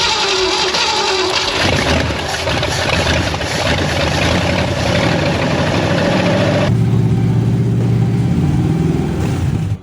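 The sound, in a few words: 1967 Ford Mustang Fastback engine idling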